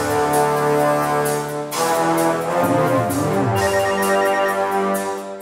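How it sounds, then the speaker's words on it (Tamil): A mobile phone ringtone plays loudly and close by, a repeating melodic ring pattern that pauses briefly midway and then resumes, with no voices. "இங்க தான் ரிங் கேக்குது."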